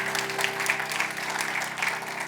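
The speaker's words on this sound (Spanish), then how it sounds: "Denle un aplauso fuerte al Señor, porque Él es bueno" Church congregation applauding during a worship service, a steady wash of many hands clapping at moderate volume with a faint sustained tone beneath, no voices on top.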